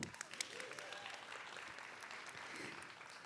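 A film festival panel audience applauds an award-winning filmmaker being introduced, a fairly quiet, distant patter of clapping with a few sharper claps near the start.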